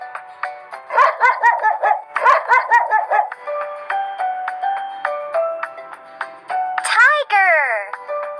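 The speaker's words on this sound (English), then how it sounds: "Dog!" A cartoon dog barking in a children's animal-sounds clip, two quick bursts of several yappy barks followed by light musical tones and a rising whimper-like sweep.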